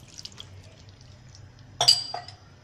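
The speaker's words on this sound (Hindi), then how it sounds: "और अब इसमें हम पानी डाल देंगे तकरीबन एक गिलास के बराबर।" About a glass of water is poured into a pan of aloo keema with potatoes, tomatoes and green chillies, making a short splash and clink over a quiet background hum.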